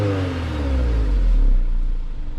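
A Honda S2000 with a UK mod revs briefly, its engine note rising and then falling away in one loud, close burst with no talk.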